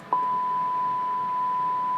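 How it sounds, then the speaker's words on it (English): A steady test tone from a signal generator, fed into a two-way simplex radio repeater, comes through the radio after a brief click. The pure, unbroken hum sits at a constant level over faint background hiss. "you can hear there's our 100 hertz tone"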